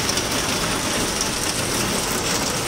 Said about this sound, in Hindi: नेक्स्ट लेवल बारिश हो रही है